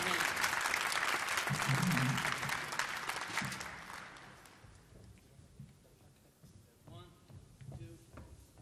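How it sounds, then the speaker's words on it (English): An audience at a klezmer concert with Cantor Yaakov Lemmer and the N.Y. Klezmer Allstars at the Millennium Stage applauds the sound crew, loud sustained clapping that fades after about four seconds into scattered claps and murmur. "Let's give a hand for the sound folks."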